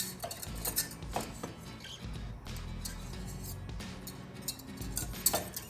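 A long, skinny French whisk clinks and scrapes around the inside of a pot in quick, uneven strokes, faint and close by, with no talking.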